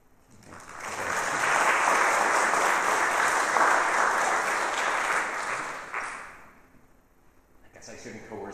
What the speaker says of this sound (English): I guess I shouldn't coerce you into applauding.